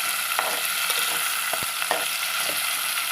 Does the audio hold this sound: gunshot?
no